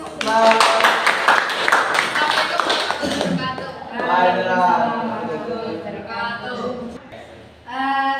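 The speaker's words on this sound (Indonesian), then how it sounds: "Sebelumnya kita beri aplaus." Students in a classroom clapping together, a brisk burst of dense hand claps for about three seconds, followed by someone talking.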